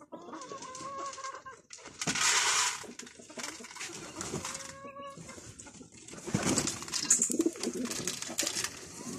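Several fancy pigeons coo close by while being fed, amid rustling, flapping and busy bird calls, a steady crowded chorus with no talking.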